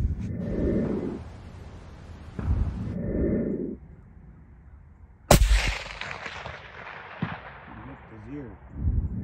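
A single sharp, loud CheyTac M200 Intervention sniper rifle shot in a game, cracking suddenly and trailing into a long decaying echo, after some quieter earlier sounds.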